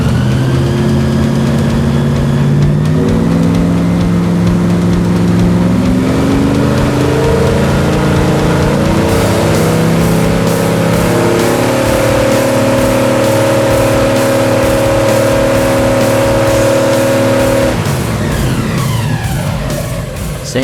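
An airboat engine at full throttle driving a strong blast of wind against a hurricane shade screen: a loud, steady roaring drone with shifting tones and heavy rushing air, close and sustained throughout.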